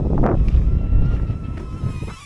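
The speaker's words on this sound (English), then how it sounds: "Getting a bit windy" Wind buffets an outdoor spot by a motorcycle, a low gusty rumble across the microphone with a couple of brief whooshing surges.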